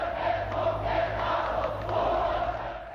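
Protesters' rough, massed shouting fills the streets of Jeonju during the June 1987 democracy protests, a dense, continuous roar of a distant crowd that holds steady throughout.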